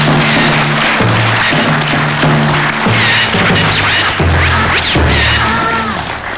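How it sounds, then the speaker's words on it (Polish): Studio audience on a Polish talk show clapping loudly and steadily throughout, with music playing underneath and a few sharp knocks and crashes mixed in. "Wielkie brawa!"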